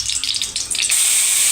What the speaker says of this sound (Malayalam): നമുക്കിനി വഴുതനങ്ങ അതിനകത്തേക്ക് ഇടാം